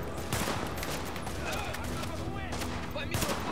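Gunfire in The Division video game: repeated shots and bursts of automatic fire in a steady, dense barrage throughout, with someone talking over it.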